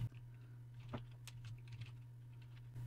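Soft, sparse keystrokes tap on a computer keyboard, a few faint clicks over a steady low electrical hum.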